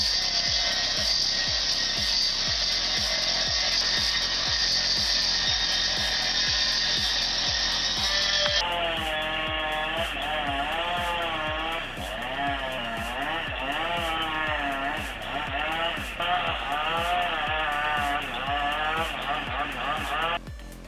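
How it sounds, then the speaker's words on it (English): A chainsaw cuts wood while the operator stands waist deep in a river, its engine holding a steady loud whine, then dropping to a lower, wavering pitch under load as it bites into the timber. "Chainsaw work, waist deep in the river."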